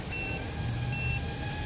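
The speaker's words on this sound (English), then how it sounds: "So we got the buzzer now going off." A TinyHawk freestyle racing drone with Racerstar props sounds its low-battery buzzer, a steady electronic beep tone held over a continuous motor whine, close and fairly loud.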